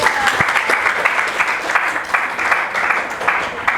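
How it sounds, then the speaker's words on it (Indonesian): A room full of people claps steadily for several seconds, a dense, even applause with faint voices underneath. "Tepuk tangan dulu buat Des."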